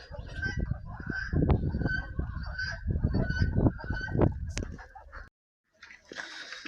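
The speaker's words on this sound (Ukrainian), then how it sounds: "Качки дуже розсварилися." Ducks honk and squabble close by on a rural village morning in Ukraine, a noisy, overlapping chorus of harsh calls, with a brief pause near the end before the calls resume.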